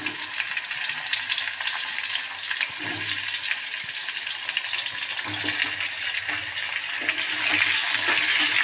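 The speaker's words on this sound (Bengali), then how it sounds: "চলো ডিমটা ভেজে নিই আগে" Eggs fry in hot oil in a kadai pan for an egg fry curry, a steady close crackling sizzle running throughout with small pops and occasional stirring knocks, no talk.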